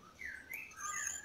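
A Javan pied starling, moulting, gives a few faint high chirps and whistled notes, brief and somewhat distant against a quiet background.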